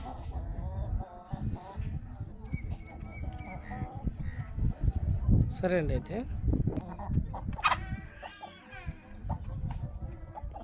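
Breeding hens cluck and chatter near a laying-box setup, with a rooster-like call rising briefly; someone talks over the birds throughout.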